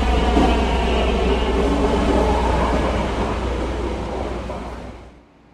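A Hong Kong East Rail Line train pulls into a station platform in a Roblox game, its loud rumbling roll slowly easing off as it slows, then dropping away sharply at the end.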